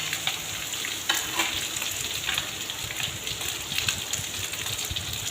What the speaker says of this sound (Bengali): সব মশলা একসঙ্গে কষিয়ে নিচ্ছি ভালো করে